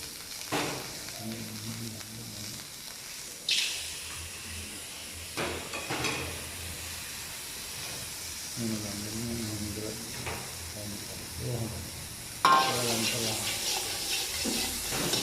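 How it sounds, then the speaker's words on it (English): Prawns and vegetables stir-fried in a hot pan with a little oil, a steady sizzle with bursts of stirring and tossing, interrupted by stretches of speech and a louder hiss near the end. "You just stir them in the hot pan with little oil, not too much oil, please"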